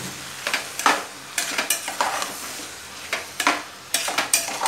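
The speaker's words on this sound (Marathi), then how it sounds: "मिक्स करून घ्यायचे." Vegetable pulao stirred in a frying pan, with a repeated scraping, stirring rhythm of several strokes over a gentle sizzle, close and fairly loud with no talking.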